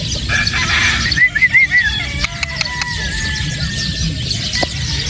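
A sweater gamefowl rooster at a game farm gives a wavering, warbling call and a few sharp clucks, with sporadic clicks and handling noises and faint background voices.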